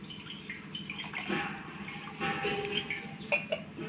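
Water splashing and dripping as a Surya Narayan idol is rinsed clean during a Paush Sunday puja, a steady close wet pouring with intermittent splashes and no voice heard.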